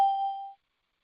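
A single short electronic chime rings on a conference call, one clear tone that fades out within about half a second before silence.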